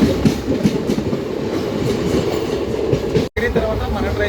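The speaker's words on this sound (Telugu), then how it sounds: "1 మినిట్ అఫీషియల్ స్టాప్ తర్వాత నగరి నుంచి కూడా మన ట్రైన్ అయితే బయలుదేరిపోయింది" Garudadri Express pulling out of Nagari after a one-minute stop on the Chennai–Tirupati line, with a loud, steady rumble and clatter of carriages on rails that continues throughout, briefly cut by a short gap near the end.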